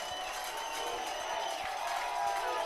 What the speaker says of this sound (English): The crowd starting the defense chant here at Deeds Field